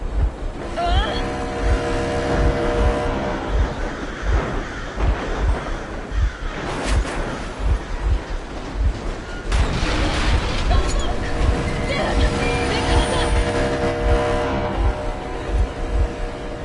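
A vehicle engine running in the video game Metro Exodus: a steady, rumbling motor drone with wind-like rushing throughout, under a loud voice speaking over it.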